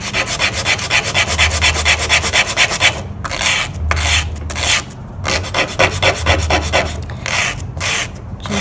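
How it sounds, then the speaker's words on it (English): White oak gets hand sanded with 100 grit sandpaper in fast, loud, rhythmic back-and-forth rasping strokes, close up and continuous, with no voices. "Just sanding it down to a fine powder."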